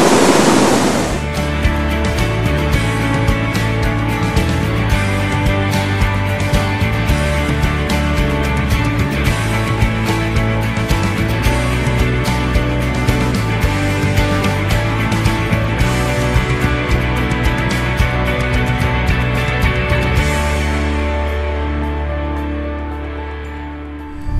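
Rushing water of a small waterfall where little streams join at a rocky cascade, a loud, steady broadband roar that holds unbroken for about twenty seconds before easing near the end, with no voices.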